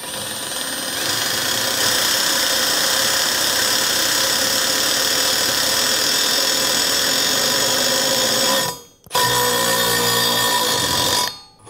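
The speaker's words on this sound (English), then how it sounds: "It countersunk the hole, it drilled the hole, and it tapped the hole." A Milwaukee drill accessory drills, countersinks and taps a hole in one pass. A loud, continuous power-tool whine with a high squealing edge runs close to the mic and cuts out briefly twice near the end.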